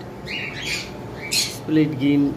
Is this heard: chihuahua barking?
no